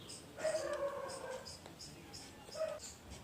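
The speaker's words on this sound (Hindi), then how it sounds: "अचानक गली के कुछ होनहार कुत्तों ने भौंकना कर दिया" Street dogs in a lane whimper and yelp faintly in the distance, with a couple of short whining calls rising over a quiet, low background.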